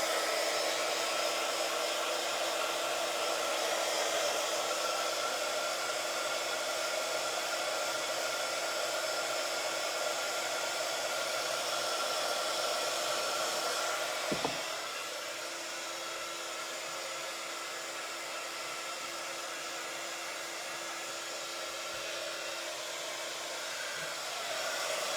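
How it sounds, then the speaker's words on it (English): A heat gun blows a steady, loud hot-air whoosh over an upcycled jewelry box to dry it, continuous and close, with a slight drop in level about halfway through and no talking. "I'm just gonna get my heat gun quickly and give it a little blast just to make sure that it all is dry"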